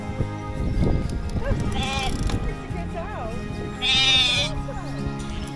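Several sheep bleat nearby in wavering calls on England's Coast to Coast walk, one loud close bleat standing out, mixed with shuffling and a person's voice.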